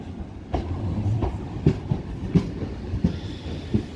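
A Class 377 electric train pulls out of Lewes station, its wheels beating a regular clickety-clack over rail joints that grows louder and quicker, with no talk over it.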